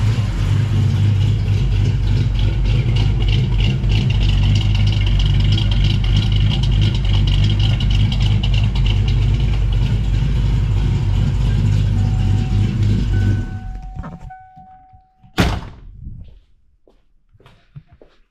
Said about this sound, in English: Let me turn the car off here.